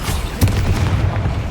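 Explosive Bombarda spell bursting in Hogwarts Legacy, a loud booming blast over continuous rumbling combat noise with a sharp impact near the start.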